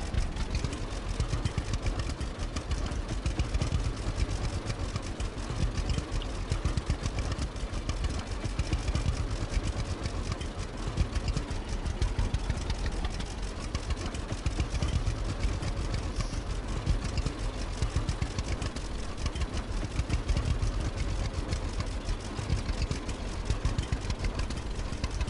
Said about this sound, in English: This tractor sounds awful.